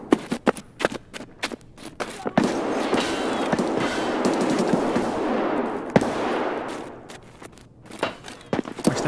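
Rapid bursts of gunfire in Escape from Tarkov inside a factory, sharp cracks scattered throughout with a sustained roar of shooting in the middle, close and loud.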